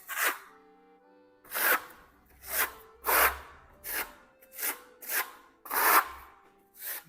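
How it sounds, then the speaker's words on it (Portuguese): Plaster compound brushed onto a wall: a series of about eight rhythmic, scratchy bristle strokes, each a short rasping swish with brief pauses between, close and moderately loud with no talking. "nós vamos pincelar, transferir um pouquinho de massa para cada região da parede."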